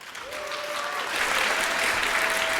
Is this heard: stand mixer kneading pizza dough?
no